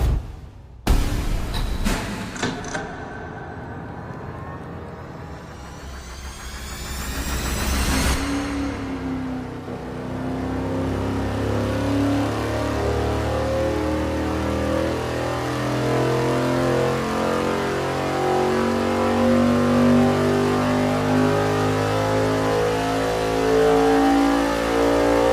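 A dyno-mounted engine with Sniper EFI fuel injection fires up and makes a full-power pull. A loud, steady roar builds and climbs in pitch, then holds heavy and sustained at close range for over fifteen seconds.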